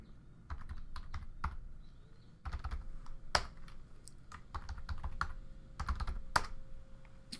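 Rapid keystrokes on a computer keyboard while a local password is entered during setup after a hard drive upgrade to an SSD, close and fairly quiet, in uneven bursts with short pauses and no talking.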